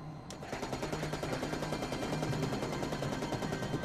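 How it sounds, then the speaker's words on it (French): A fighter jet's 30 mm cannon fires one long, rapid burst, a dense and continuous roar of shots that starts abruptly and rumbles on loudly to the end. "J'ai tiré une rafale de 64 munitions de calibre 30 mm."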